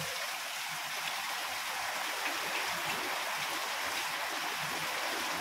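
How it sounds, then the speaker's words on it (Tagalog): Heavy rain pours down steadily during a typhoon, a dense, constant hiss of water close by with no break or change in intensity. "naririnig niyo naman po na talagang malakas po talaga yung ulan"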